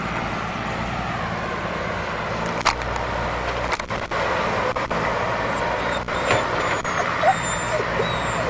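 Trucks and heavy equipment at a 1998 dike excavation site, with a steady diesel rumble, sharp air-brake hisses and intermittent reversing beeps heard nearby over continuous engine noise.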